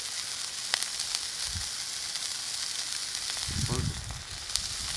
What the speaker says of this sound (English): So I'm just cooking up this last cheeseburger.